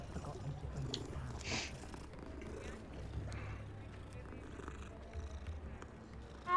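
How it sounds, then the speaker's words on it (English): A cat purrs in Hogwarts Legacy, a soft, steady rumble that runs throughout beneath game ambience and brief background sounds. "Let's go pet a kitty cat."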